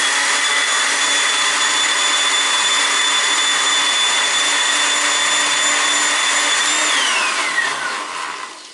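A mixer whirs loudly and steadily as it blends an oxalic acid solution for varroa mite fogging. Its motor whine holds constant, then drops in pitch and fades as it shuts off near the end.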